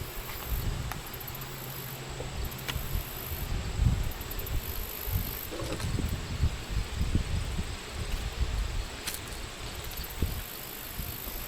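Honeybees in an opened hive drone in a steady, close, dense buzz during an inspection, with occasional handling knocks and no talk.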